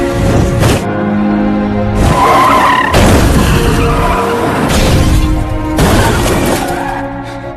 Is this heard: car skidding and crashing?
yes